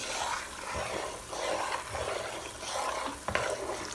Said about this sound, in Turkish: yanmasın diye de sürekli karıştırıyorum.